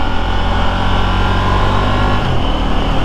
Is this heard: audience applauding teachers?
no